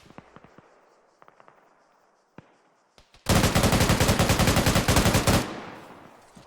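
Tank gunfire in a military video game starts with a few scattered sharp shots, then a loud, dense two-second burst of rapid reports that fades into a decaying rumble, close and with no talk.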